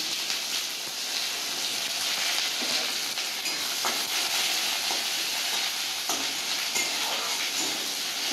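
Chopped onions frying in a pan with dried and green chillies, giving a steady, even sizzle and hiss throughout, with faint stirring ticks and no talking.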